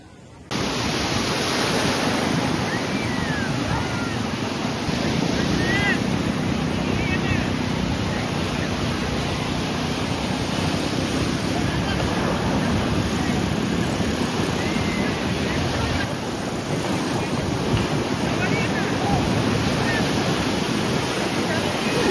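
Big surf rolls in at Kashid beach, a continuous loud roar of breaking waves mixed with wind buffeting the microphone. Voices are faintly audible beneath the wash.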